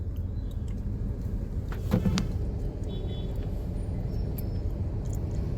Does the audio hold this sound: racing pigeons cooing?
no